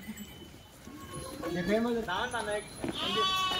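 Goats loaded in a vehicle, bleating in a few wavering calls that rise over a rough background, fairly close and moderately loud.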